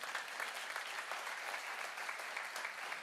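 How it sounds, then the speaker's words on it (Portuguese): A church congregation applauds the Lord during a sermon, giving steady, even clapping from many hands, heard from a distance and fairly faint throughout. "Aplaude o Senhor que eu vou beber água."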